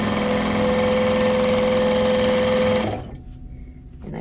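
A sewing machine runs a long, steady top stitch along a box cushion slipcover, droning loud and close for about three seconds before cutting out into a quiet pause.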